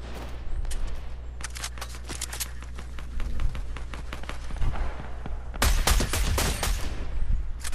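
An automatic sniper rifle fires in Fortnite: Battle Royale, heard as bursts of sharp gunshots over a low game hum, with a dense, louder volley near the end.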